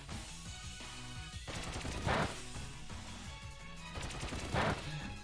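Pin Missile attack in the Pokemon Shield video game, repeated rapid impact hits in rattling bursts with two heavier crashing strikes, set against game music at moderate volume.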